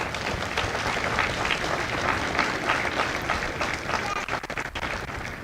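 A crowd at a Marine recruit graduation at MCRD San Diego breaks into sustained applause, dense clapping holding steady throughout with a murmur of voices underneath.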